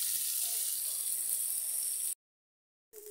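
Fish heads frying in oil give a steady, soft sizzling hiss that stops abruptly into silence, then resumes faintly with a low clatter near the end.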